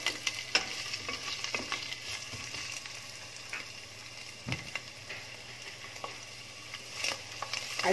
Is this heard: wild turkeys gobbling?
no